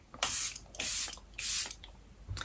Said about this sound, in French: elle vient mettre du spray fixateur, donc j'utilise le même qu'elle, c'est le Charlotte Tilbury, le Airbrush Flawless Filter Setting Spray